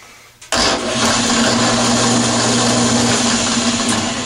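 A drill press spins a part for friction welding, starting abruptly and holding a loud, steady whirring hum with a grinding, rubbing edge throughout, close and without talk.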